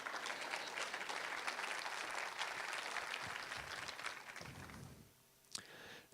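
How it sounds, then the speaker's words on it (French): Congregation applauding inside a church during a French-language sermon: steady, fairly quiet clapping from many hands that fades out over the last second. "Vous avez le droit d'applaudir, de dire Amen de temps en temps."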